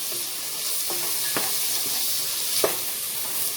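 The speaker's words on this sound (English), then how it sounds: "saute these for about 3 or 4 minutes until they're soft" Vegetables sautéing in oil in a pan for lemon chicken and rice soup, a steady close sizzle with a few soft clicks and taps of a utensil stirring.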